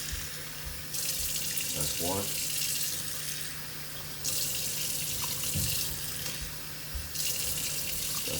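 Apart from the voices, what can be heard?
water from tap added to washed rice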